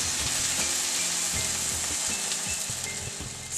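Pav bread toasting in butter in a hot pan, a loud continuous buttery sizzle up close, with low rhythmic background thumps beneath and no talking.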